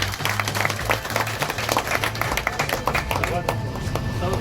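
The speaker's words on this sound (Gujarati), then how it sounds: "આપણે સૌએ એને તાળીઓના ગગડાથી વધારવાનું છે" At a Gir Gadhada taluka panchayat gathering, an audience claps for a newly announced panchayat president: lively, uneven clapping from a crowd, with voices speaking over it.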